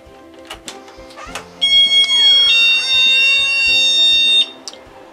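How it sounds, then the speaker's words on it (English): A loud, steady electronic door entry alarm tone sounds for about three seconds in an office, close by, with a few faint clicks and footsteps around it. "That is our alarm on our door, so we know if anybody's coming in or going out."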